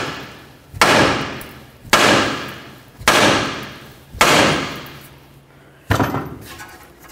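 A hammer strikes a nut to free the outer tie rod end on a 2007-12 Dodge Caliber, five loud metallic bangs about a second apart, each ringing out briefly before the next hit.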